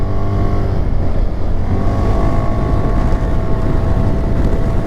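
A 2023 Zontes 350 D scooter pulls away and accelerates, its engine drone rising steadily in pitch under constant wind rush against the microphone.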